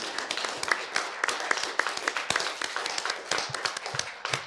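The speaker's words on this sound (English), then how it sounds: "let's give a round of applause to our two speakers here" An audience at a university talk applauds two speakers with brisk, dense clapping that stays fairly steady for several seconds, heard close and without talk.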